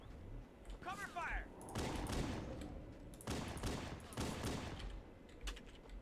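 Bursts of rapid gunfire in Halo: Combat Evolved rattle in clusters, fairly loud, with a brief whooshing effect early on and talking mixed in.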